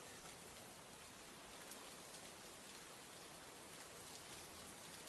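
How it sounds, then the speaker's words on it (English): Steady rain falls continuously on surfaces, a dense, even hiss with scattered drop patter, close and enveloping with no talk throughout. "Something about the sound of rain just hits a little different"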